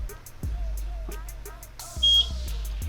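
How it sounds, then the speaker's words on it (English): A EufyCam 3 security camera gives a short, clear electronic sync beep near the two-second mark, standing out from low background hum with faint room noise around it. "So press the sync button until you hear the beep."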